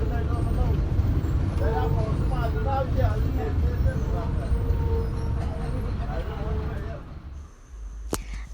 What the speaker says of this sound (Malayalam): ബസ്സിൽ നമ്മൾ ടൗൺ വരെ ഒന്ന് പോവാണ്